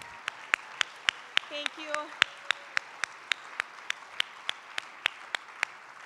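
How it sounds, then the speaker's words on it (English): A quick round of applause for a standing team at a general session in Nashville, heard as sparse, evenly spaced claps, loud and sharp, with a brief spoken thanks partway through. "Can you all stand so we can give them a quick round of applause?"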